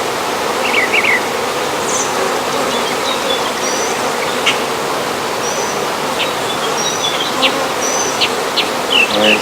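Honeybees buzz loudly and continuously close by during a top bar hive inspection, a dense drone with faint high chirps scattered over it.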